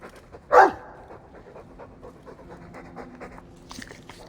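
A Mabari war dog in the video game Dragon Age 2 pants in a short, loud burst near the start, followed by fainter, quieter panting and soft ambient game sounds.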